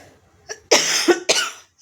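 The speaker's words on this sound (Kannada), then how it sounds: "ಕೆಮ್ಮು" A woman cooking coughs several times in quick succession, close and loud, the short harsh bursts separated by brief pauses in an otherwise quiet kitchen.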